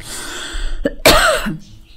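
A single sharp, harsh cough, close and loud, with a little throat noise leading into it and trailing off afterward.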